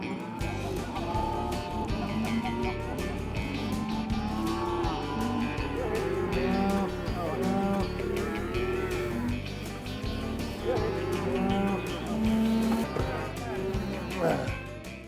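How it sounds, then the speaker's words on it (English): Cattle moo again and again, cows and calves gathered at a ranch for branding, the lowing overlapping in a steady chorus with voices talking throughout. "we finally got all the cows gathered and got the calves sorted off"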